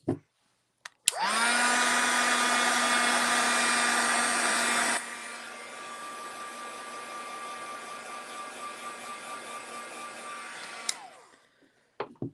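A handheld blow dryer runs loud and steady for about four seconds, drops to a lower setting for six more, then switches off, with a clear motor whine under the rushing air and no talking.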